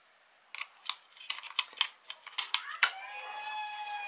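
Sharp plastic clicks and snaps as an AA battery is fitted into the battery compartment of a Rii RK200 keyboard, close and fairly quiet, in an irregular series that ends in a ringing, fading tone.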